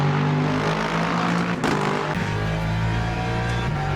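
A race car engine roars in a racing video game, a loud, continuous, gritty growl that holds steady throughout, with a brief surge partway through.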